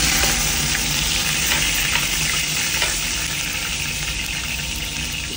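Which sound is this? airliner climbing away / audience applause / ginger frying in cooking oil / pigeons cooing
ginger frying in cooking oil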